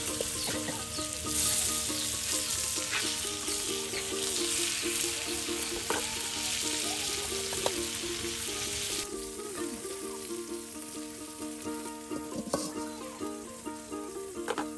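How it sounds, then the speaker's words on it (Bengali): Tilapia fish frying in oil in a home kitchen gives a steady, close sizzle with occasional stirring and scraping, running continuously with little talk. "কিন্তু এই মাছ ভাজি করা হচ্ছে।"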